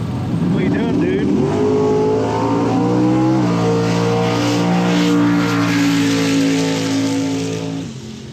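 A budget all-motor Honda K24 with a dogbox gearbox pulls hard on a track day pass, the engine revving loud and close up through the gears with a shift around three seconds, while people talk in the cabin.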